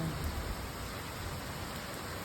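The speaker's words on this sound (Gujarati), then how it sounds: "અહીંયા જોઈ શકો છો સખત વરસાદ પડે છે" Heavy storm rain pours down in a constant, even hiss, with no voices.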